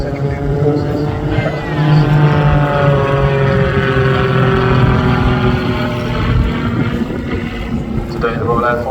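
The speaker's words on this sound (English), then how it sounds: "He aims to pitch the aircraft around manually circling the sky, even when inverted in centrifugal forces." Aerobatic aircraft at an airshow, its engine droning steadily with gently shifting pitch as it circles and rolls overhead, a sustained moderately loud tone under wind noise throughout.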